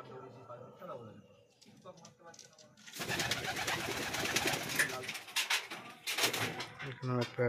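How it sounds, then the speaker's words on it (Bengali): High-flying pigeons coo softly in a loft while someone talks over them, with shuffling and fluttering noises building into a busy, fairly close burst of activity. "এটা হাই ফ্লাইং পায়রা আছে।"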